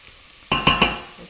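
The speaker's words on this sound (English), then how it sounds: "We'll just let that saute there." Onion and garlic sautéing in a pan for a chunky fish soup: a quiet background hiss is broken by three sharp, close clatters of stirring against the pan, followed by soft sizzling.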